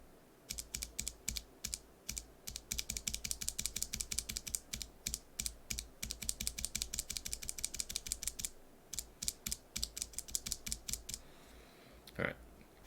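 NovelKeys BOX Cream mechanical switch pressed repeatedly with no keycap on, giving loud, close, rapid clacks in steady bursts with a short pause partway through.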